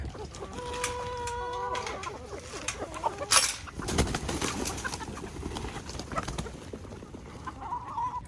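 Chickens clucking and calling in a farmyard, several birds overlapping, with a brief sharp squawk partway through and steady outdoor background noise.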